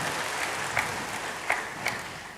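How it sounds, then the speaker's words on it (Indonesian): A church congregation applauds in steady, dense clapping with a few sharper claps standing out, moderately loud and continuous throughout. "Oh, berikan tepuk tangan bagi Tuhan."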